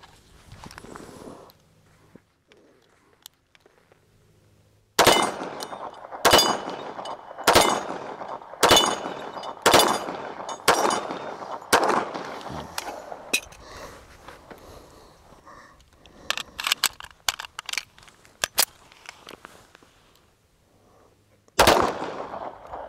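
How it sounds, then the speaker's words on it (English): A Colt 1991A1 Series 80 .45 ACP pistol fires a rapid mag dump of about eight loud, sharp shots in quick succession, followed by scattered echoes and clatter, then one more loud blast near the end. "before we do our gratuitous mag dump"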